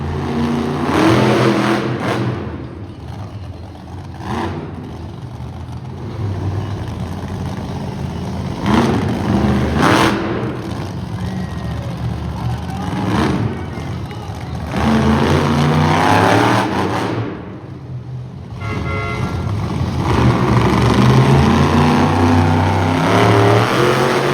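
A monster truck engine revs repeatedly over a long stretch at a motorsports show in Edmonton, loud and close, surging and falling in bursts with a steady mechanical rumble beneath.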